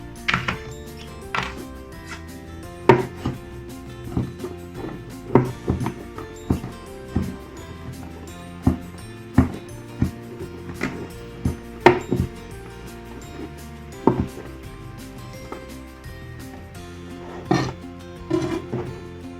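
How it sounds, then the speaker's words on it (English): A knife chops berries roughly on a board, firm rhythmic thuds repeating at a steady, uneven pace, close and clear with no talking. "I'm just gonna roughly chop it."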